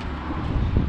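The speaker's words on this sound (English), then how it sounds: "It all of a sudden got super windy." Wind buffets a microphone outdoors during a Nissan 350z custom radiator build, a steady low rumbling gust lasting under a second.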